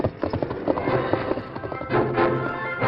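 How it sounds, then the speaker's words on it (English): A horse's hooves clip-clop steadily in a radio drama effect, loud and close, a continuous run of hoofbeats with a brief whinny-like swell near the end and no talk. "Glenn Dawson stabled his horse and entered the house"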